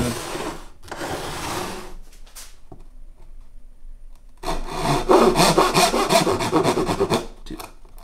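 Back-and-forth strokes of a hand saw cutting wood to widen a brace slot in an acoustic guitar, close and crisp, with a short quiet pause between two bursts of steady rasping strokes.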